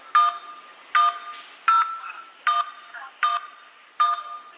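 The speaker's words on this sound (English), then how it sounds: "This is the phone in her pocket. You can clearly hear her talking, and her keys are being punched." Six phone keypad tones beep at an even pace, each a short clear electronic tone followed by a brief muffled rustle from an accidental pocket dial.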